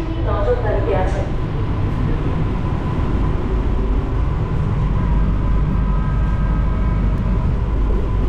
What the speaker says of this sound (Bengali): ট্রেন কিন্তু ছেড়ে দিল আমাদের মাঝের গ্রাম স্টেশন থেকে